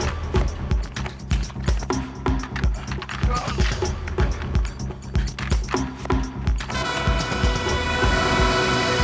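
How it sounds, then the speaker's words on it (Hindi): Horse hooves clip-clop in a quick irregular rhythm as a mare is led away at night, with dense background music and effects throughout and a sustained tonal swell near the end. "कोई घोड़ी खोल के ले जा रहा है।"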